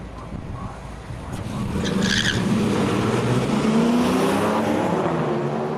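A drag racing ute revs hard across the finish line at a test and tune meet, a steady loud engine roar that builds and holds with rising harmonics, heard from trackside.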